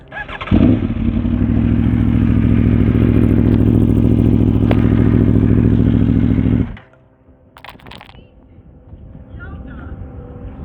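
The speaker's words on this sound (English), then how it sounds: "Now let's start this thing real quickly so we can try to capture that exhaust note." A motorcycle fitted with a full titanium Akrapovic exhaust starts up and idles with a loud, steady throbbing roar for several seconds, then shuts off, leaving faint clatter and background noise.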